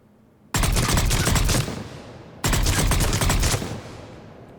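Valkyrie assault rifle in Mass Effect 3 fired from the hip: two loud, close, rapid automatic bursts of about one and a half seconds each, separated by a short pause, each trailing off as it ends.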